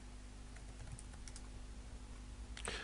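Someone types a company name on a computer keyboard in a rapid run of light, close keystrokes, faint against a steady electrical hum, and no one talks.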